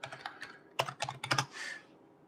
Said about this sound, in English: I have to type and I can't multitask